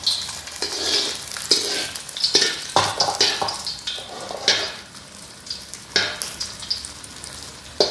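Oil sizzles and crackles in a Bima Blacksteel wok being seasoned, with loud frying bursts, scraping stirs and metallic pan clatter coming in uneven waves.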